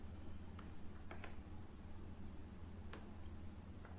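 Computer keyboard typing while writing ReactJS code: a few sparse, faint key clicks spread over a steady low background hum, with no talking.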